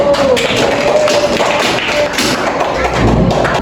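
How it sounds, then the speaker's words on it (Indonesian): Children in a third-grade classroom clap for a classmate, a burst of dense, loud, close clapping and tapping with chatter mixed in. "Beri tepuk tangan buat temannya yang sudah masuk."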